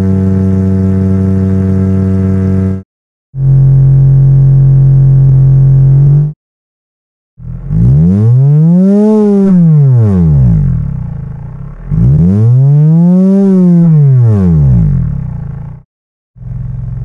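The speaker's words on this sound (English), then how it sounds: "in a 90 degrees V6 engine. The firing intervals are uneven, alternating between 90 and 150 degrees." An uneven, throbbing 90-degree V6 exhaust note, firing intervals alternating between 90 and 150 degrees, idles, then revs up and back down twice in smooth, loud sweeps, separated by short silences.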